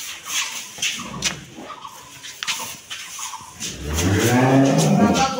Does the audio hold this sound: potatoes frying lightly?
no